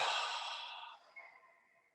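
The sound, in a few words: big exhale breath during yoga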